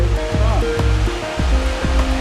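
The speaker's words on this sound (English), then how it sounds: "there's quite a large waterfall there" A large waterfall running extra high after heavy rain roars as a steady, close rushing wash while people talk over it.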